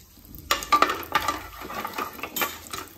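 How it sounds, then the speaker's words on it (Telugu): Whole spices, including shahjeera and mace, fry in a pot for bagara rice and are stirred with a spoon: a soft sizzle under several close, sharp metallic scrapes and clinks, with no talking. "ఇప్పుడు మనం ఒకసారి కలుపుకుందాం."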